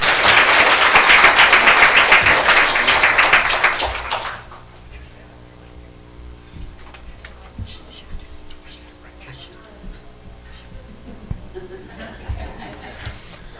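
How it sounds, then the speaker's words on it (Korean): Church congregation applauding together in thanks during a Presbyterian building dedication service, a loud dense wash of clapping for about four seconds that stops abruptly, leaving quiet hall ambience with faint shuffling. "그 모든 분들에게 우리 박수 한번."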